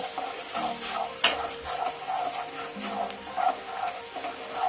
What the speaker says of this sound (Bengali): এবার একটু জল দিয়ে দেব। দিয়ে মশলাটা একটু কষে নেব।